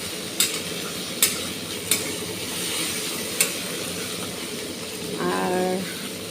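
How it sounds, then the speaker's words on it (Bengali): Okra (bhindi) frying in a pan for breakfast gives a soft, steady sizzle with a few sharp stirring clicks scattered through it, and a brief voice-like hum near the end. "আজকে ব্রেকফাস্টে আমার আছে ভেন্ডি ভাজা"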